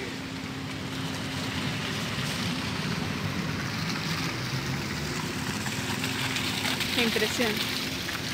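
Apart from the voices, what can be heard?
heavy rain on a flooded street in Bogotá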